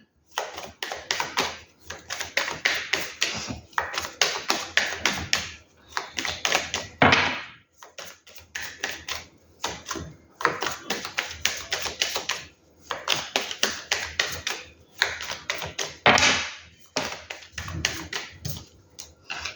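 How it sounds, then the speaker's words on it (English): Tarot cards are shuffled in repeated bursts of crisp riffling and rapid clicking, each flurry lasting a second or two, separated by brief pauses and soft taps, close and fairly quiet. "Let's start shuffling properly."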